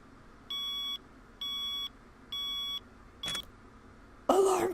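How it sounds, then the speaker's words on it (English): An alarm clock in the video game Seduce Me gives three even electronic beeps, a shorter fourth beep, then a harsher buzzing burst, all loud and close with no talking. "Alarm clocks! Your worst enemy!"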